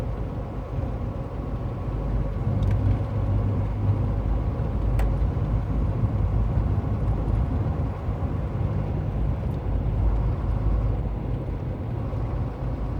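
A semi tractor truck rolls along a snowy winter road at night at about 33 to 36 mph, its engine and tire rumble droning steadily and low, close and continuous, with no talking.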